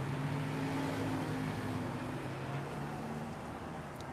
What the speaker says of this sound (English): See all the traffic going by.